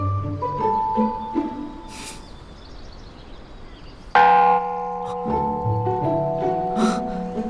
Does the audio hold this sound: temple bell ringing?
yes